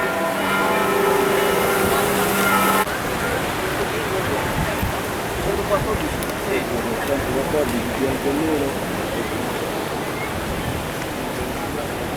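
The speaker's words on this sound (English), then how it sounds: "Got to hear the bells ring." Church bells in Rome ring with steady harmonic tones for the first few seconds, then stop abruptly, leaving a dense wash of outdoor noise and distant chatter.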